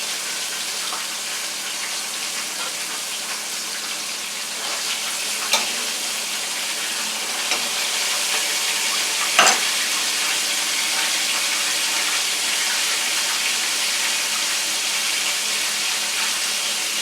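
Chicken pieces deep-frying in hot oil for crispy fried chicken, a steady close, loud sizzle and crackle filling the whole clip, with a few sharper pops and splatters now and then and no talking.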